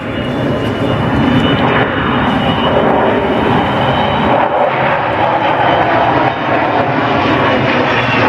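Avro Vulcan bomber at the Farnborough Air Show, flying low overhead with wheels down in an overshoot, a loud, continuous jet roar that fills the whole stretch without a break.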